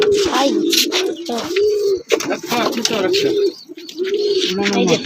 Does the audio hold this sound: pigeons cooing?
yes